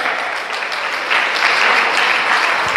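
An audience at a free business training session claps loudly and steadily, dense applause filling the room and swelling slightly louder midway.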